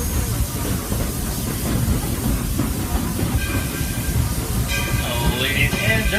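Disney World Railroad steam train pulling into a station in Fantasyland, with a steady loud rumble and hiss of rolling cars, metallic squeals and whistle-like tones rising near the end.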